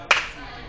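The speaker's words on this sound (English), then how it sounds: "Give it a nice clap." A single sharp hand clap, close and crisp, made to make a robot turn around in an innovation lab, followed by a quiet room tone.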